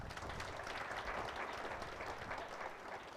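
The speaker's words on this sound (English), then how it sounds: "A round of applause for our panelists." An audience applauds panelists at an ICT conference session on digital inclusion, with even, sustained clapping from a crowd throughout.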